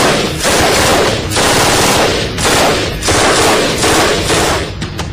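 Israeli-designed assault rifles, slated for manufacture in Malanpur, Madhya Pradesh, fire in loud, rapid automatic bursts, about five sustained volleys separated by brief pauses.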